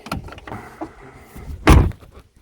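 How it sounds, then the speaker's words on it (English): The door of an old 4x4 Chevy pickup truck swings and shuts with one solid, close thud after some lighter creaks and rattles of the handle and hinge. "Door shuts nice."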